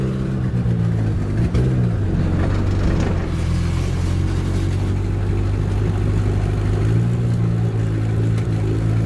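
A BMW E36 car with an engine swap, fitted with a clutch and running without working brakes, idles and drives with a loud, steady engine drone and some shifts in pitch, heard up close and without talk.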